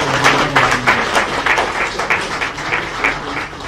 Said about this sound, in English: A louder round of applause, a louder round of applause